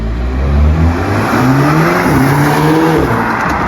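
A Volkswagen Golf R in paddle-shift mode accelerates hard, its engine note climbing and roaring loudly and continuously up close across a few seconds of sustained throttle, with no speech.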